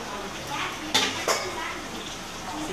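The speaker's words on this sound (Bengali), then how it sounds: "আমি ওটাতে পনিরগুলো দিয়ে দেবো।" Paneer added to thickened chana in a cooking pan: two sharp metallic clinks of a utensil against the pan over a soft background hiss, with someone speaking during it.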